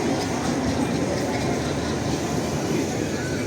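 A tomato-themed tram rumbles steadily past at close range on a street in Lviv, a continuous rolling drone with rattling, and no clear breaks throughout.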